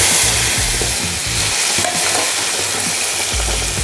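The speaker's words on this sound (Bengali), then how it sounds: "কড়াইয়ে তেল গরম হয়ে গিয়েছে, এখন আমি ঝিঙে যে পেস্ট করে রেখেছিলাম সেটাকে এখন আমি দিয়ে দিচ্ছি" Ridge gourd paste dropped into hot oil in a wok, frying with a loud, continuous close-up sizzle and occasional stirring scrapes, no voices.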